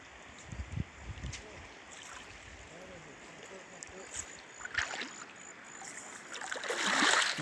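A small flowing stream runs with steady broadband rushing and trickling, with occasional splashes and a louder surge near the end; a voice briefly comes through the water noise.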